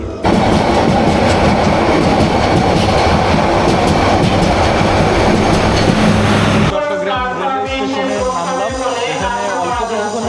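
Cox's Bazar Express passenger train running on rails in Bangladesh, a loud steady roar of wheels and carriage rumble for most of the stretch, then shifting to rhythmic clickety-clack beats over the rail joints.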